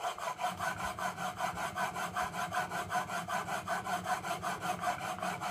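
A coffin smoother plane iron being sharpened on a diamond stone, with heavy-handed pressure giving a steady, close rhythmic scraping as the blade rubs back and forth in even strokes.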